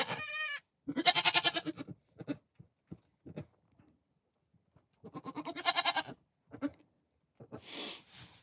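A newborn baby goat bleats in a few loud, wavering bursts close by, with short gaps and soft shuffling between calls, among other freshly born kids.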